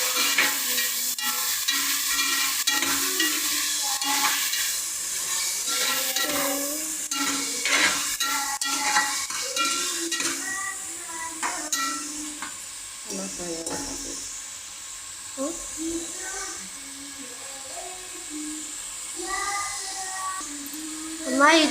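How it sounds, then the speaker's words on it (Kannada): Tomatoes frying in a pan for tomato rice, with repeated scraping and clattering from stirring over a soft sizzle, as people talk over it throughout. "ಚೆನ್ನಾಗಿ ಮೆತ್ತಗಾಗಬೇಕಪ್ಪ, ಫ್ರೈ ಆಗಬೇಕು ಟೊಮೊಟೊ."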